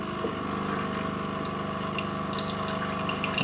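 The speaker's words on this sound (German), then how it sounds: "So, und hier kommt der Kaffee sehr dünn raus." A De'Longhi ECAM coffee machine pumps out thin, watery coffee, giving a steady, loud mechanical pump hum with liquid running continuously throughout, close up and with no talking.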